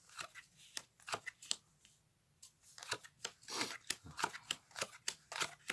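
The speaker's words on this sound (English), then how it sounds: "pick up all the cards again" A deck of playing cards is gathered up and dealt back out on a card mat, a run of crisp snapping and flicking sounds in quick irregular bursts with a short pause partway through.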